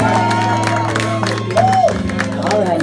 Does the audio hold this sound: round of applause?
yes